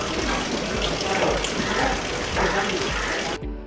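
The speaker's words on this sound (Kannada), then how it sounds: "ಇಂದಿಗೂ ಇಲ್ಲಿ ನೀರು ಹರಿಯುತ್ತಿದ್ದು ಇದಕ್ಕೆ ರಾಮತೀರ್ಥ ಅಂತಾನೆ ಕರೆಯುತ್ತಾರೆ" Water flows steadily at the Ramatirtha stream beside a temple, a dense, continuous rushing and gushing close by that cuts off abruptly at the end.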